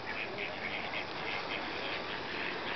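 Ducks quack at a park pond while they and the fish are being fed. The quacking is faint and repeated over a steady wash of background noise.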